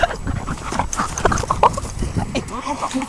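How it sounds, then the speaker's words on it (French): A dog at a grooming spa whimpers and pants close by in short, uneven bursts, with light movement and scuffling around it. "Tu es beau ce chien."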